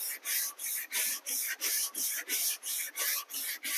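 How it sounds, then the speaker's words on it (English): Rhythmic back-and-forth rasping of a sanding block held flat on drywall mud, about a dozen even strokes in a steady rhythm, close up. "But again, you're keeping the sanding block flat."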